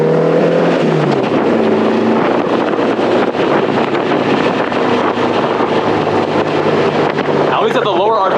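Porsche 550 Spyder engine from the driver's seat on a road drive, a loud steady drone with shifting pitch and strong wind buffeting throughout, rising sharply near the end.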